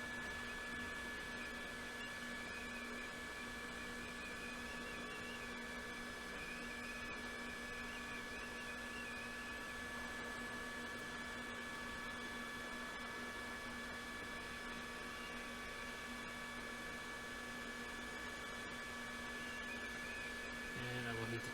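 A hot air rework station set to 4.5 airflow blows over a MacBook Air Mid-2015 A1466 logic board to preheat it, giving a steady, close whooshing hiss with faint humming tones that stays constant throughout.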